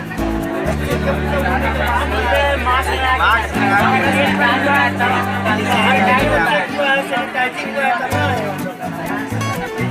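A crowded coaching centre is filled with dense, loud chatter from many voices, with a steady background hubbub throughout. A low hum or tone sits underneath and drops out briefly partway through.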